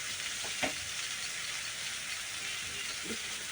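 Bata fish with bitter gourd, drumstick stems and chili powder sautéing in a pan gives a steady, close sizzle broken by a couple of soft stirring scrapes, with no voices.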